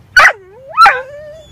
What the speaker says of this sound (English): You see that dog? Bark.